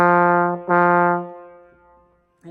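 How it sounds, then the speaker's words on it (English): Two solo trombone notes, each with a firm accented start and full held length, the second ringing a little longer before fading. "the tenutos with accents over them have the same front of an accent, but they have the length of a tenuto"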